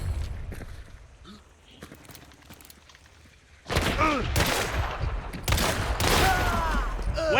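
Gunfire in the video game Hunt: Showdown. Quieter shuffling and faint movement come first, then a loud burst of several close, echoing gunshots follows in rapid succession with ringing tails.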